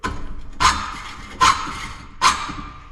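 Three rasping hacksaw strokes bite into material at an even pace, each push a sharp scraping burst with quieter pauses between.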